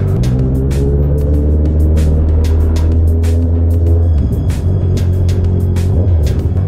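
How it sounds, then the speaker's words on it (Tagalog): Road traffic around a Honda CB650R motorcycle on a morning ride, with the bike's steady engine drone and wind rumble running loud and close throughout, and brief vehicle noises passing around it. "Traffic."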